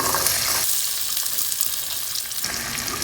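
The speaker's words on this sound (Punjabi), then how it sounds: "ਆਪਣਾ ਤੇਲ ਗਰਮ ਹੋ ਗਿਆ ਜੀ ਹੁਣ ਆਪਾਂ ਇਹਦੇ 'ਚ ਬਰੀਕ ਕੱਟੇ ਹੋਏ ਪਿਆਜ਼ ਪਾ ਦਾਂਗੇ" Finely chopped onions crackle and sizzle in hot mustard oil, a steady close frying hiss that fills the clip with no voices.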